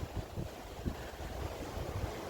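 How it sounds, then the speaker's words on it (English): Strong gusting wind across an open pasture with trees, a steady roaring rush with uneven buffeting surges, faint and continuous, no voices. "the wind is really picking up and gusting"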